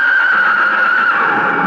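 A blue roan stallion neighs in a radio drama, giving one sustained, bright whinny that stays loud and close for under two seconds with no other sounds.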